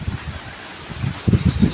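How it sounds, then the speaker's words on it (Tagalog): At the onset of Typhoon Uwan, strong wind gusts thump against the microphone in low, uneven bursts, with rustling building toward the end. "Ang lakas pa ng hangin."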